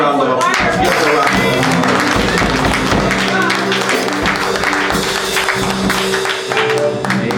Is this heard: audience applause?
yes